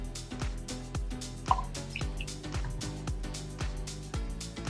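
Tap water pouring slowly into a container, a close, quiet stream of rapid drips and splashes with one brief louder plop partway through.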